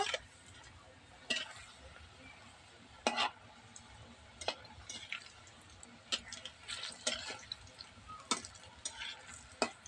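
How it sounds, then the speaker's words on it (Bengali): Puli pitha, Bengali dumplings, frying in hot oil in a village kitchen, with a quiet sizzle broken by sharp intermittent clicks and taps of stirring, close and fairly faint, no talk. "গরম করা তেলের মধ্যে আমি এই ভাজা পুলিগুলো ছেড়ে দেবো"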